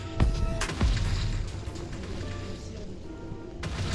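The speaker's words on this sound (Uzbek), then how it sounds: "Bola hozir mana bu portlab ketadi" Explosion sound effects added in editing give a few sharp, booming blasts at the start and near the end, with rumbling noise between them.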